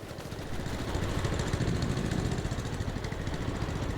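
Vehicle engines in Farming Simulator 22 on the Greenlands British map run with a steady, even mid-pitched rumble that holds for several seconds.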